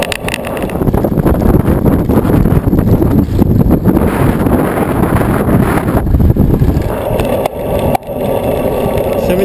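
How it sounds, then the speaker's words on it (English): Strong wind buffets the microphone in a loud, continuous roar with gusty fluctuations throughout. "This section is pretty windy."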